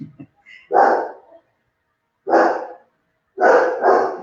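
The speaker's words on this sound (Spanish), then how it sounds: "olvidé hablar con Samantha que no ladrara" A dog barks close by in three bursts, a quick pair after a faint yip, then a single bark, then another double bark, with silent pauses between.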